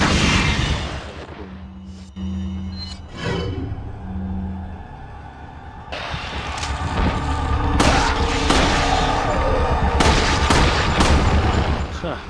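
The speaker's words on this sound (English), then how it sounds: "A flash grenade." Flash grenade in Resident Evil 4 going off amid loud combat, with bursts of gunfire and booming impacts in dense, continuous game action.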